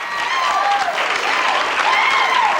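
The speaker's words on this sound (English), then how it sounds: "the crowd goes wild" A crowd cheers and applauds loudly at a women's candlepin bowling championship, sustained dense clapping with excited shouts and whistles throughout.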